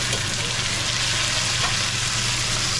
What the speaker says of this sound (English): Allow it to fry up a little.